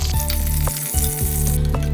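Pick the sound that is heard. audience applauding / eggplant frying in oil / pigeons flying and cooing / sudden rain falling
eggplant frying in oil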